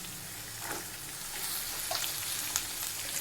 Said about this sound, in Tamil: இந்த பச்சை சுண்டைக்காய் போட்டு வதக்கும்போது ரொம்பவே நல்ல டேஸ்ட் வரும்